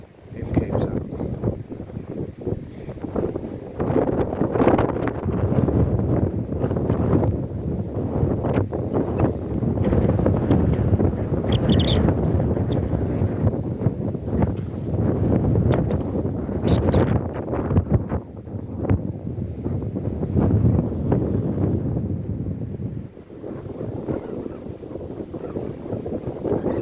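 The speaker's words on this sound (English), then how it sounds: "Now let's take a look at this tidal pool" Strong wind blows across the Cape of Good Hope at Cape Point Nature Reserve, beside the Bordjiesrif tidal pool, as a steady, loud roar buffeting the microphone for the whole stretch.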